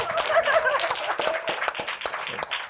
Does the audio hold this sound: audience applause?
yes